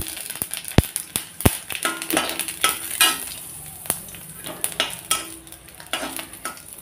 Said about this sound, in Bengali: তো তেলটা পুরো চেতে গেছে, এই 2টো তেজপাতা দিয়ে দিলাম।